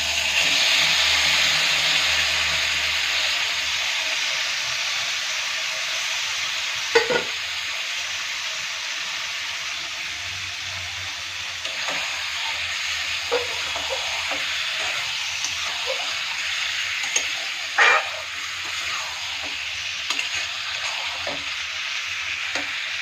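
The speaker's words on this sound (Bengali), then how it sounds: "এবার আস্তে আস্তে মাংসগুলো ছেড়ে দেব।" Meat sizzles and spits steadily in a hot pan, a loud continuous frying hiss broken by a few sharp clinks and scrapes of stirring.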